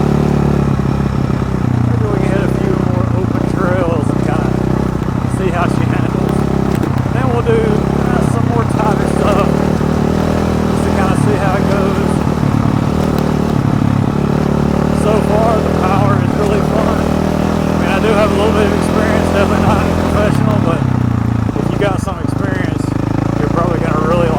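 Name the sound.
KTM 450 SX-F dirt bike engine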